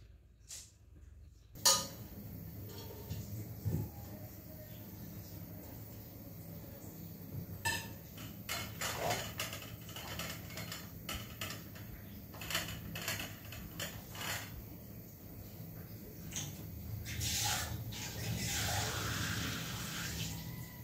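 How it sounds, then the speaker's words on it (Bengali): A pressure cooker is handled in a home kitchen, with metallic clanks, rattles and ratcheting clicks of the lid and parts scattered over a steady background, some knocks louder and closer than others. "তো সেজন্য প্রেসার কুকারটা বের করে নিলাম।"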